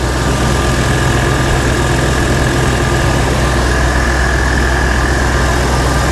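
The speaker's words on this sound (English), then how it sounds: "You should hear a noise from the compressor." A/C compressor running on a classic Bricklin car more than 50 years old, a steady loud engine-bay hum with a constant whine, even and unbroken throughout.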